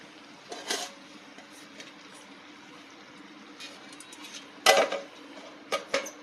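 Food is stirred in a cooking pot and a lid is set on, giving scattered metallic clinks and scrapes over a quiet hum, with a sharper clank near the end and no voices.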